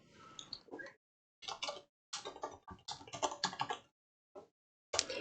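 Computer keyboard typing while the Shift and Tab keys are pressed, with clusters of quick, crisp clicks in uneven bursts and short gaps. The keys are close and fairly quiet, and no one speaks.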